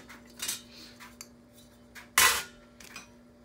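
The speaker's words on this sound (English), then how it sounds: "Pieces of silverware hanging off. More silverware." Pieces of silverware hanging as wind ornaments clink together in a few sharp metallic taps, one louder clatter in the middle, with no talk.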